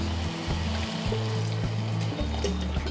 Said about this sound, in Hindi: अब हम इसमें डालेंगे पानी, करीबन एक गिलास जितना पानी डालेंगे।